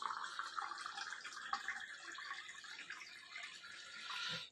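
Filtered water from a Vestige Sharp purifier pouring into a cup, a faint steady trickle with a slight rise just before it stops.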